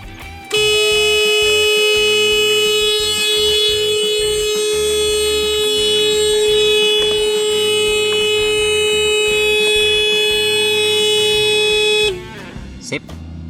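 A motorcycle's GSM anti-theft alarm blares continuously for about twelve seconds, a loud steady electronic siren tone with strong harmonics, then cuts off abruptly, leaving brief faint room noise at the end.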